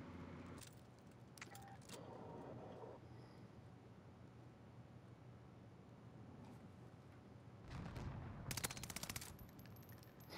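Rapid bursts of gunfire in a video game fired at the player from a tower, with sharp clustered shots toward the end over a steady game background.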